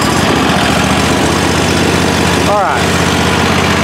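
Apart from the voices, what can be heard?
Bad Boy ZT Elite riding mower engine idling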